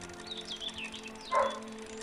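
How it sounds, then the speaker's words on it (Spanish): A dog in the room gives a short, sharp bark about midway, preceded by faint high yips or whines over a quiet background hum. "¿El perro está ladrando?"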